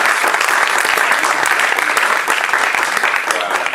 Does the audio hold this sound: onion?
no